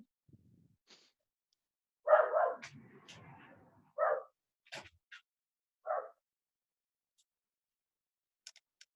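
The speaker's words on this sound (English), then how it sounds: "There's a dog barking here." A dog barking nearby in a few separate bursts, about four or five short barks spaced a second or two apart, fairly faint against an otherwise quiet room.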